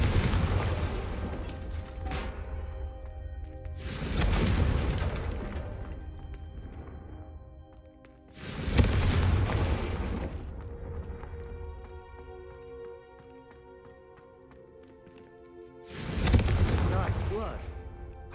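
Confringo fire spells in Hogwarts Legacy go off as four loud, booming blasts spaced several seconds apart, with quieter game ambience and faint tonal music between them.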